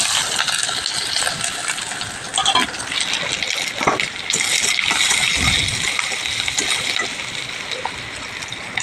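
Steady loud hiss and crackle of two large chopped onions frying in hot oil, with a few sharper pops and splatters breaking through the continuous sizzle.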